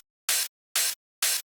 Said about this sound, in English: we have a hi-hat playing on the offbeat, which consists of a cashmere open hat and this white noise layer from Serum.